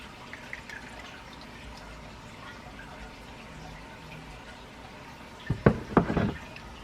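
Hot oil for a skin-firming body butter is poured through a paper towel in a strainer, opening with faint drips and a quiet stretch, then loud splashing and trickling near the end.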